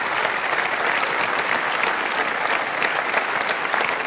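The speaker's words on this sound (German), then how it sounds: "Und das ist nochmal dein Applaus" Loud, close studio audience applause on a German Sunday television show, a thick, even roar of clapping that stays constant from start to finish with no voices on top.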